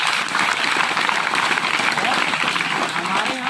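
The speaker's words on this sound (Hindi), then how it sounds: "हाँ, इसके लिए ताली बजाओ।" A room of students in Rajasthan claps together in steady, dense applause, loud and sustained from start to finish, with a few voices faintly underneath.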